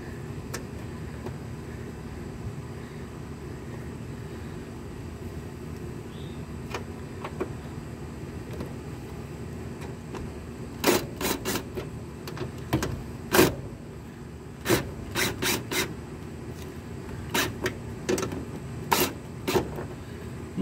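Short bursts from a power driver sinking self-tapping screws into a headlight relay mount on a full-size Jeep Grand Wagoneer, several brief whirs in quick clusters over steady low background hum, no talking.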